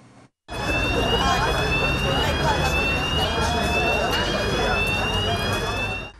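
A fire-drill siren wails steadily at an office building in Târgu Mureș, loud and close, holding a continuous rising-and-falling tone after a brief quiet start, with a voice heard faintly beneath it.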